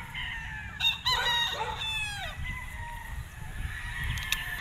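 A six-month-old stag, a young gamecock on a game farm in Tanauan, Batangas, gives one close, loud, rising-and-falling crow about a second long. Faint background noise sits under it and the farm is otherwise quiet.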